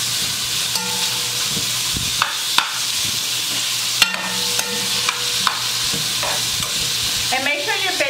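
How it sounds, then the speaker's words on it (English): Steady, crackling sizzle of bacon frying in a pan on high heat, with scattered pops and a few utensil scrapes and clinks against the pan. "just let it start frying"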